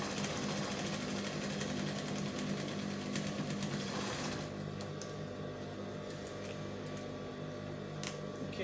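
A sewing machine stitches fabric for a standing bow, a close, steady rapid mechanical whirring and ticking that runs continuously and eases slightly in the second half.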